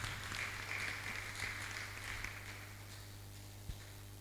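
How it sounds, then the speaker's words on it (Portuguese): Audience applause at a lecture on unequal yoke, a diffuse spread of claps at low level over a steady low hum, thinning toward the end with one sharp knock near the close. "Você pode aplaudir fortemente, por favor?"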